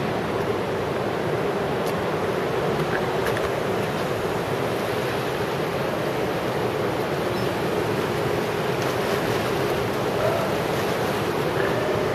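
Ocean surf surging at Cathedral Caves in New Zealand as the tide comes in, a continuous loud rushing wash of waves with some wind buffeting on the microphone, steady throughout with no voices.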